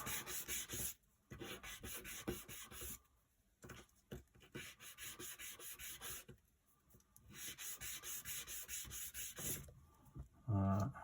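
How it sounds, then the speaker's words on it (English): Sandpaper scrubs a small model railway part clean in quick bursts, a close, dry, hissing rasp repeated in several strokes separated by short pauses. "So we'll find my piece of sandpaper and we'll quickly clean this one up."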